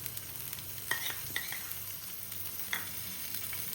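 A vegetable sandwich toasts in ghee on a pan with a soft, steady sizzle, broken by a few faint scraping stirs and taps of a utensil, quiet and close.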